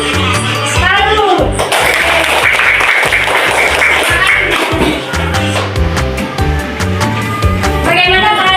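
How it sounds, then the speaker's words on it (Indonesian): Hand clapping joins lively music with singing during a children's dance, a run of sharp claps and taps over the beat, loud and close. "ayo tepuk tangan."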